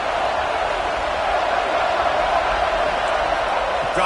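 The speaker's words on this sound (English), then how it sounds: "This crowd bringing the energy and noise early." Football stadium crowd noise, a dense, steady roar of many voices filling the stands, constant and fairly loud throughout with no clear break.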